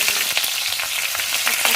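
Green chillies frying in hot oil in a wok, a loud steady crackling sizzle with occasional sharper pops, close up and continuous with no talk.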